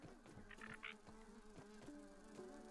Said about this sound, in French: Il y en a partout des mouches.